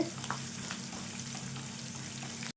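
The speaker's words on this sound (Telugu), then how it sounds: "చూడండి పోపు అయితే మంచి క్రిస్పీగా వేగింది చూడండి." Tempering spices frying crisply in hot oil for a tomato and red chilli pickle, a steady close sizzle with a constant low hum underneath, cutting off abruptly near the end.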